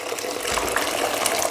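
Pre-boiled water pours in a short, close gush, splashing steadily into a vessel.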